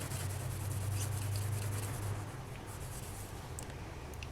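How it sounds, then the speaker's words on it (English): Polymer clay bead being buffed by hand for a mokume gane and lava necklace, a steady soft rubbing and friction sound, close and continuous, heavier in the first half then lighter, with no talking. "this is how you do it if you're going to hand buff it"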